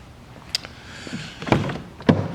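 A 2014 BMW 750Li M Sport door with soft-close pulls itself shut, heard as a few soft thunks and a brief motorized whir, close and fairly quiet, with no talking.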